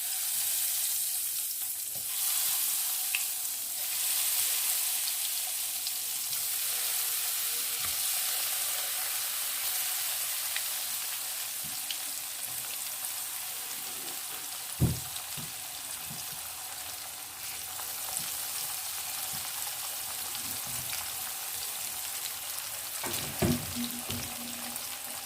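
Batter-coated potato pieces for pakoras fry in hot oil, giving a steady bright sizzle that runs throughout, with an occasional stir or clink of a utensil against the pan.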